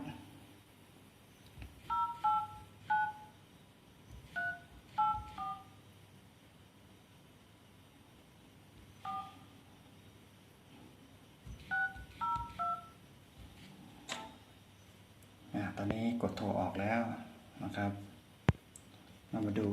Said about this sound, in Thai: ผมจะกดเบอร์โทรนะครับ